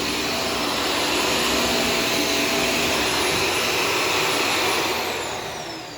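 A Shark Stratos vacuum cleaner runs continuously on a laundry floor, a loud, close, steady motor whine with broad airy rush that fades slightly at the end.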